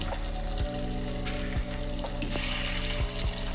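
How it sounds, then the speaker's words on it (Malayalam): Small kuruva paral fish fry in hot coconut oil with curry leaves, a dense continuous sizzle heard close up, with a few sharp clicks and stirs from the pan and no talking. "വെളിച്ചെണ്ണ ചൂടാക്കി കഴിയുമ്പോഴേനും 2 കറിവേപ്പില തണ്ട് വിട്ട് നമുക്ക് മീൻ കഷ്ണങ്ങൾ പെറുക്കി വെച്ച് വറുത്തെടുക്കാം"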